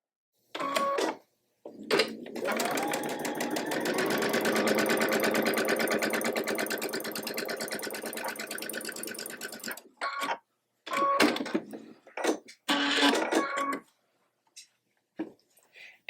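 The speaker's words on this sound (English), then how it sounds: "Sew all of these with a scant 1/4 of an inch." A sewing machine runs in one long steady burst, stitching quilt-block fabric with a scant quarter-inch seam, then stops; short, loud clicks and handling sounds follow, with a voice talking.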